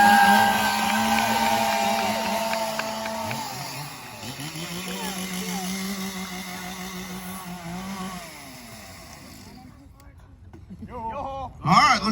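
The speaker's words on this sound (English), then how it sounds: "We'll let these guys warm up their saws." Lumberjack chainsaws warm up at an obstacle relay at the Alaska State Fair, engines idling and revving in shifting pitches, dropping away briefly before a final loud rev, with crowd noise and voices around.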